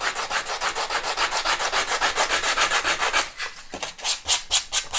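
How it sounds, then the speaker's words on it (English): Hand sanding of a model railway part, with sandpaper wrapped around a small mouse-type sanding block, gives a steady run of close, rhythmic rubbing strokes that slow into a few separate scrapes near the end. "all I did to sand it was I got these mouse things where you put sandpaper around them"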